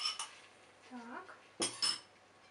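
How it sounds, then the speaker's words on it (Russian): A utensil stirs mackerel in a tomato and mayonnaise sauce in a Polaris multicooker, giving a few faint scrapes and quiet metallic clinks against the pot in a mostly hushed kitchen. "Перемешиваем, чтобы все было ровненько и красиво."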